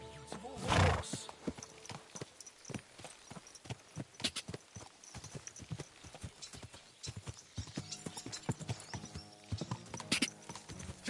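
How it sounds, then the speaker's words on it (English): In the video game Kingdom Come Deliverance 2, a horse gives a loud whinny near the start, followed by a long run of rhythmic clip-clop hoofbeats at low volume. "My, what a beautiful horse."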